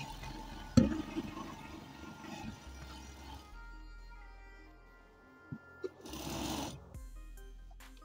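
A sewing machine stitches lace or a fall onto a sleeve. It makes a quiet, close hum in uneven stretches, broken by a few soft handling knocks and fabric sounds, with no voices.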